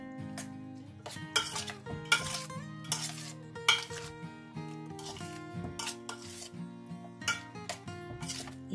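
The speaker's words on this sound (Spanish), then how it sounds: "Todo esto lo vamos a mezclar bien" A spoon scrapes and clinks against a metal pot while a fisherman's bean salad is mixed, giving a close, irregular series of bright metallic knocks and rubs with no one talking.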